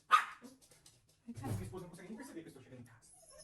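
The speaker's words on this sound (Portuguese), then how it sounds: "Olha essa cachorrada aqui em casa." Several dogs barking at home, a sharp bark at the start and then a busier stretch of overlapping barks and yips, with a voice talking over them.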